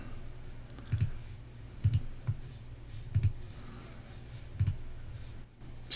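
A computer mouse clicks a few times while picking an image to upload, sharp close taps spaced about a second apart over a quiet room hum, with no speech.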